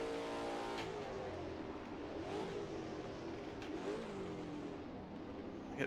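Race car engine droning steadily at high revs, with a faint passing rise and fall, heard continuously from the cockpit in a sim racing game on a Fanatec setup.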